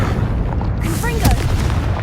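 The Confringo fire spell in Hogwarts Legacy bursts with a deep, loud rumbling boom that lingers for about two seconds, while a voice sounds briefly over it.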